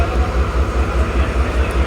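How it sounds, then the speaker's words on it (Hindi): The Karakoram Express pulls away from Faisalabad railway station with a loud, close, steady rumble and a soft rhythmic pulsing beneath it. "और 41 अब मूव हो रही है"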